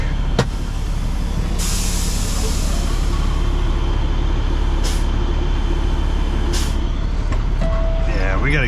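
A semi truck's air brakes hiss from a leaking glad-hand, several sharp bursts of air over a constant loud engine drone inside the cab.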